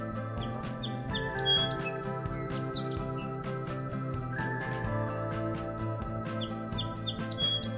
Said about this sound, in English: The sparrow, a modest yet ubiquitous avian companion, brings warmth to urban landscapes, meadows and countryside alike.